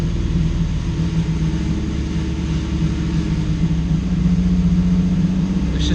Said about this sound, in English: If I rev it to 2 grand,